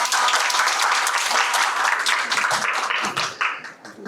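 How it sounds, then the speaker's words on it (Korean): An audience at a Daejeon public science lecture on batteries gives steady, dense applause to welcome the professor, filling the room evenly before tapering off near the end. "박수로 맞이해주세요."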